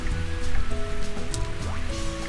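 Steady synthesized rain hiss from the Nintendo 64 game Mario Golf fills the clip, layered with background game music tones and a brief sliding effect, with no talk.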